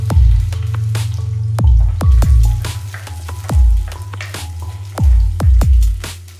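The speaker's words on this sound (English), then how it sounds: "heat oil in a pan and add pandan leaves, curry leaves, cinnamon and garlic." Pandan leaves, curry leaves, cinnamon and garlic fry in hot oil in a pan, giving a steady close sizzle broken by repeated loud popping spits and crackles.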